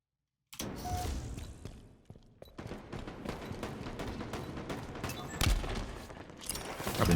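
Game gunfire from Halo Infinite rattles in dense, continuous bursts after a brief silence, with sharper loud shots near the end and no speech over it.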